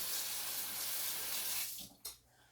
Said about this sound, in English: let me wash this spoon off